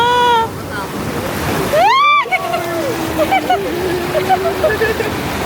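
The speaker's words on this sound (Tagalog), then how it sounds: "Kasi, malakas ang alon." Strong ocean waves at Subic Bay in Zambales, Philippines, roar and wash near the microphone with wind buffeting, while excited voices shout and talk over the surf throughout.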